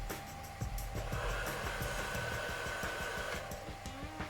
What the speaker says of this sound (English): Use the heat gun here, heat it up, bend it around the corner